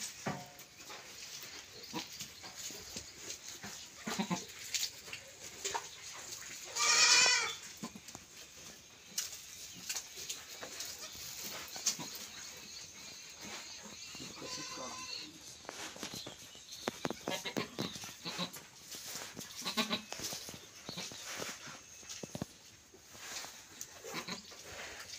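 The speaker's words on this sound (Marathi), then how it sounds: "शेळी." A goat bleats once, sharp and fairly close, rising above a busy, noisy farm-shed background of rustling and scattered clatter.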